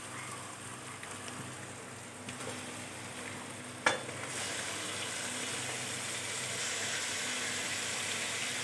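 Chicken pieces for chicken kosha dropped into spiced oil, setting off a steady close sizzle with stirring and pan scrapes, the frying growing louder after a sharp clatter partway through.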